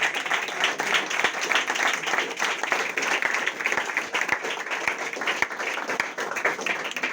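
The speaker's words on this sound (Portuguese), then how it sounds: "Que as palmas louvem ao Senhor Jesus Cristo." A church congregation applauding in praise of Jesus, a dense and sustained wash of many hands clapping that fills the room, steady and fairly loud for the full length, with faint voices mixed underneath.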